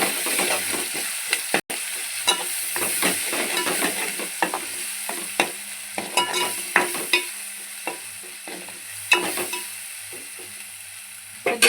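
Ginger garlic paste spits and sizzles in a pan for a meat curry, a steady hiss punctuated by repeated clicks and scrapes of a spoon stirring nearby.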